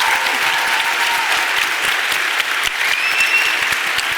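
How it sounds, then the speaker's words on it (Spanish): A literary conversation audience in the Plaza de los Aljibes gives a strong, sustained round of applause, a dense and even crackle of many hands clapping throughout. "Os pido un último fuerte aplauso para Erika y para Camila."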